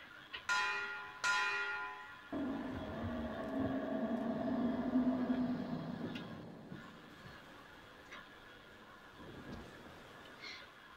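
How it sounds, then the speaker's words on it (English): A large bell in Metro Exodus struck twice in quick succession with bright metallic clangs, then a deeper rumbling toll that swells and slowly fades, followed by quieter scattered knocks. "Ring the bell."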